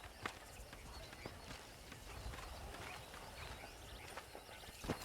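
Horse hooves clip-clopping in Red Dead Redemption, a steady running gait at close range over low ambient background noise.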